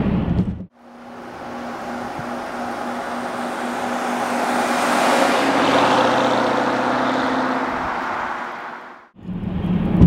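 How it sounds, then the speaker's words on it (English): A 2006 Porsche Cayenne Turbo Techart SUV's turbocharged engine accelerates hard while driving, a loud sustained roar rising and holding for several seconds before a brief dip as the gear changes. "the turbochargers really start to spool up at about 1800 RPMs, and beyond that, it just really just starts to pull you right back into your seat"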